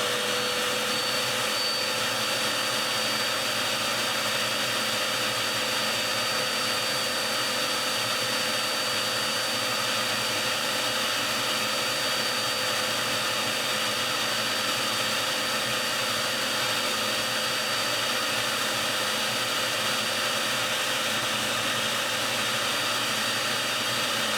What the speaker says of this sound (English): fire up the vacuum and set it down and rotate the record until it's dry